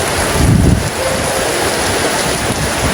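Heavy rain pouring steadily, a dense roaring wash of noise that stays loud throughout with no talking.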